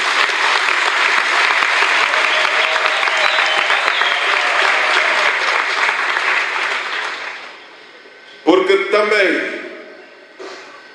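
A hall full of people at a party anniversary event breaks into loud, sustained applause that fades out after about seven seconds, then a voice speaks alone close to the microphone.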